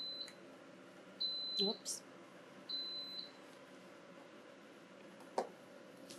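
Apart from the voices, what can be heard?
kitchen beep for collard greens, not smoke alarm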